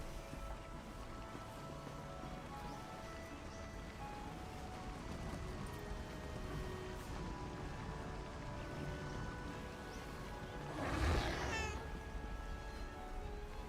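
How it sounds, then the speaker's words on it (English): A cat meows in The Lord of the Rings Online during a Midsummer Festival, a single short call near the end rising briefly above a steady bed of game ambience and music. "I knew I heard a kitty"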